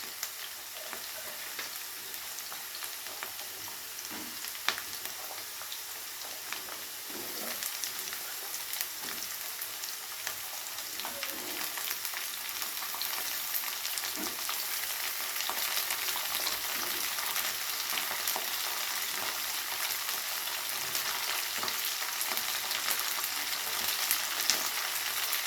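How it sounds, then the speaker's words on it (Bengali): Bitter gourd and potatoes fry together in a pan, giving a steady close sizzle that runs unbroken throughout, with occasional soft clicks of stirring and no voices. "উচ্ছেটাকে দিয়ে আবারও আলুর সাথে খুব ভালো করে একটু ভেজে নিতে হবে।"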